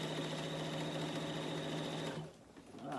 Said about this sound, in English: I'm going to put it back in the machine, and then I'm just going to continue to sew.